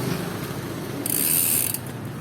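A Weapon Attack 12-speed bicycle rear hub and derailleur, recovered after months of rain and flooding, ratchets and shifts, giving a close freewheel buzz with a brief bright burst of clicking midway, no voices.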